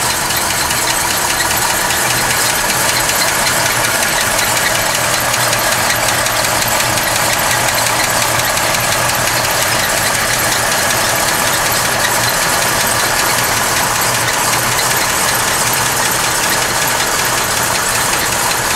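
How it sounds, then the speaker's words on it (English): A 1939 Cadillac Series 90 V16 formal sedan idles steadily up close, its engine running with an even, continuous rumble and faint mechanical ticking throughout, with no voices. "Car idles really nicely."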